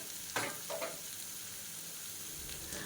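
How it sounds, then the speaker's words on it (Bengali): Potato and eggplant pieces fry in a pan over a high gas flame, a faint steady sizzle broken by a few spatula scrapes as the vegetables are stirred. "সবজিগুলো 1 মিনিট ভাজা হয়ে গিয়েছে।"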